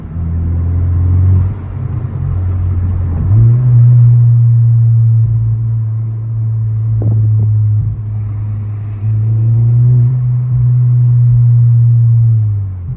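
A 2023+ Honda Civic Type R FL5 fitted with an Invidia R400 exhaust holds a deep, loud droning rumble that steps up in pitch and volume as the exhaust valve opens, then dips and rises again.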